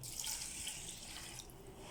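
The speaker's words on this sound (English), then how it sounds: "So for 1 glass of rice we are adding 1 glass of water only." Water runs into a pressure cooker holding rice, a soft, faint splashing trickle that pours for a moment and then eases off, with no one speaking.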